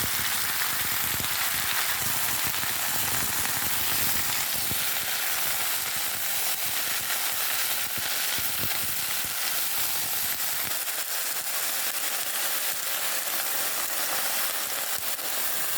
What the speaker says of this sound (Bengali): এবার ওর মধ্যে আমরা ধুয়ে রাখা সবজিগুলোকে দিয়ে দেবো।